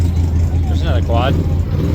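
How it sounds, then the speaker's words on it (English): A quad bike (ATV) engine idles or rumbles steadily at the Mint 400 street festival on Fremont Street, a low continuous drone amid crowd noise, with a brief voice speaking over it. "There's another quad."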